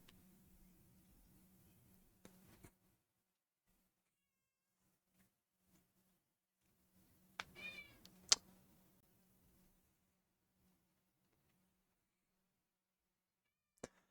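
A house cat outside wanting to be let in gives a short meow that stands out among scattered faint clicks and thumps in a mostly quiet room, with a sharp tap at the very end.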